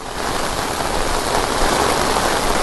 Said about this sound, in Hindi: बहुत ज्यादा मूसलाधार बारिश जो वो यहाँ पर हो रही है।